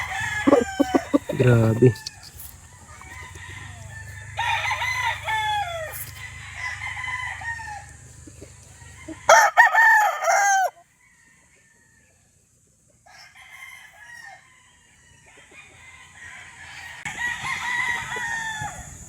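A gamefowl rooster of the sweater breed crows repeatedly and clucks nearby, with someone speaking briefly between the calls and a quiet gap partway through.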